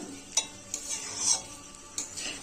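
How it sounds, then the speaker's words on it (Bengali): Spiced rice coated with ghee, ginger paste and turmeric is stir-fried in a pan. A soft background sizzle sits under a few sharp scraping clicks from stirring, spaced irregularly and fairly close. "মশলা মাখিয়ে রেখেছিলাম ওটা দিয়ে চালটাকে এবার ভেজে নেবো ভালো করে"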